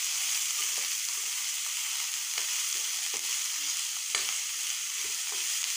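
Chopped onions sizzle in hot oil in a pan for a small borali fish curry, a steady, close hiss broken by occasional soft stirring clicks.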